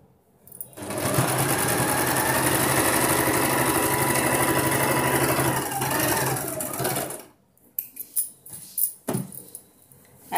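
A sewing machine stitches a boat neck blouse with a fast, steady whirring run lasting several seconds, then stops and gives way to faint handling clicks and rustles.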